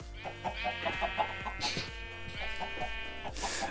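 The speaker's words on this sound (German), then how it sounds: "Hühner." Chickens clucking in the video game Minecraft, repeated short clucks in an uneven rhythm, at moderate volume over a steady musical background, with no voices.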